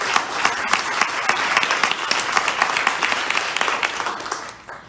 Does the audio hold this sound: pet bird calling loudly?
no